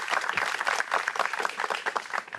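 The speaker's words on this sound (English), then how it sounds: "let's give them a round of applause" Outdoor community crowd at a water program launch event giving a round of applause, dense, steady clapping from many hands, fairly close and continuous with no talking.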